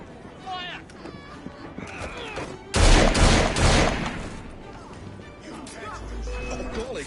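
A sudden heavy volley of cannon and gunfire bursts out in Assassin's Creed Syndicate, a loud explosive barrage lasting about two seconds before rumbling down, with game voices talking before and after.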